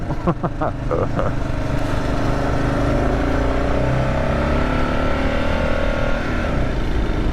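A 2024 Kawasaki KLR 650 motorcycle pulls hard on a gravel road, its engine drone climbing through gears as it accelerates, loud and close, with wind rush and a voice talking over it.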